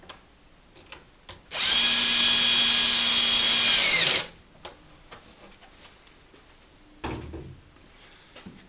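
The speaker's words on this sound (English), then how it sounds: "just finish them off with the screwdriver. If you are using one of these, make sure it's on a low torque setting" Power screwdriver on a low torque setting running one steady whirring burst of about three seconds while tightening a screw, close and fairly quiet, with faint handling clicks before and after.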